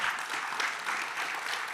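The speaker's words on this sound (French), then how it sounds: "je crois qu'on peut vous applaudir." A short burst of steady applause from a conference audience, moderately distant and even in density.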